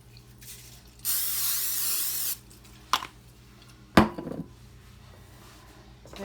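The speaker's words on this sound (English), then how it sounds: "this is my pan. I'm going to spray it." Cooking spray from a can hisses onto a baking pan in a kitchen in one steady burst of about a second, close and loud, then a couple of clunks as the pan and can are handled.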